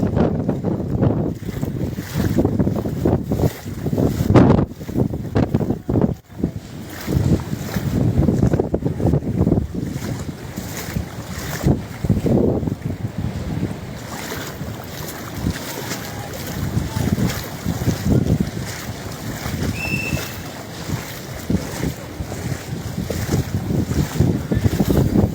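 Cyclone Yaas wind and floodwater surging through Digha, a constant roar of gusting wind and rushing water with buffeting on the microphone, broken by occasional louder thuds and splashes.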